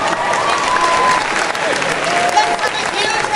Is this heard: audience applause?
yes